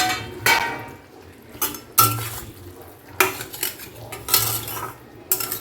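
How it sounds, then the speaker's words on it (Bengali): Shrimp in mustard oil being stirred in a metal cooking pan, a series of sharp utensil scrapes and clanks spaced about a second apart, close up over a faint sizzle, with no voices. "একবার নেড়ে নিলাম এবারে ঢেকে দিলাম"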